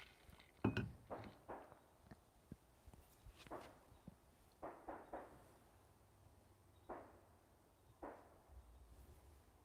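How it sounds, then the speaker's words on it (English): Distant gunshots from target practice in Texas, a series of sharp isolated cracks spaced irregularly across the clip, faint against a quiet outdoor background. "Those are gunshots."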